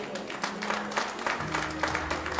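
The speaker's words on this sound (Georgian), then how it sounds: "გთხოვთ აპლოდისმენტები მივესალმოთ." A crowd applauds at the 26th Mega award ceremony of Georgia's cultural academy, steady dense clapping filling the hall, with a murmur of voices underneath.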